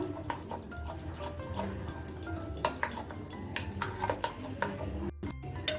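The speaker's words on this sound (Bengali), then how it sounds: "ডিম দুটোকে ভালো করে ব্যাটারের সঙ্গে মিশিয়ে নিচ্ছি" A utensil beating two eggs into batter in a bowl, with quick, irregular clinks and taps against the bowl's side over a soft background, close and fairly quiet.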